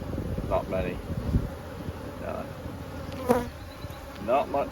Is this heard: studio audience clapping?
no